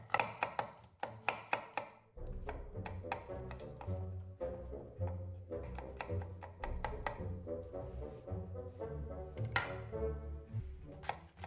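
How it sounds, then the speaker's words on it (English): Garlic being sliced on a cutting board for meatballs: a run of quick, crisp knife taps, then a denser, steady chopping rhythm close by, faint overall and with no talking. "we're gonna start slicing garlics"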